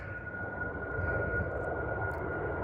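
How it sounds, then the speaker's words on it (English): An airplane flies overhead several kilometers from an airport, and its steady broadband roar holds loud and constant. A thin whine runs through it, heard outdoors in a city. "a few planes flying over. Here comes another one now"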